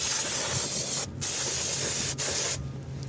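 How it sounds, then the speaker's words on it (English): Brake cleaner sprays onto the front brakes of a Kia Sorento in loud, steady hissing blasts, with two brief pauses before the spray cuts off near the end. "spray some brake clean in here to clean this up"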